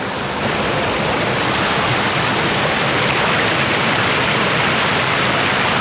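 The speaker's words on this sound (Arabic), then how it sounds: "طبعا المي اللي ينزل منها كلش حار." A constant, loud rush of very hot volcanic spring water pouring down, steady and unbroken throughout, heard close by with no voices.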